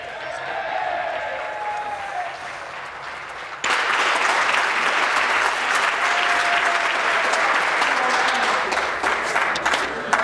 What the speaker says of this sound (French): Je ne pouvais pas entendre le ministre qui avait la parole à la suite des applaudissements de la part du gouvernement.